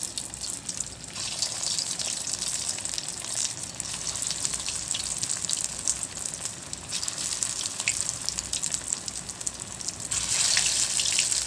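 Chicken keema cutlets fry in hot oil in a kadai, giving a steady, dense sizzle close up with bursts of louder crackling near the start and end, no talking.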